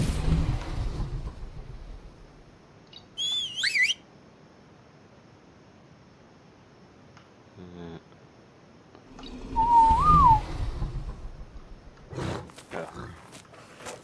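A whistle command in the video game ARK, heard as short rising and falling tonal whistles at separate moments amid quiet game ambience, with game creature noises and brief thumps between them.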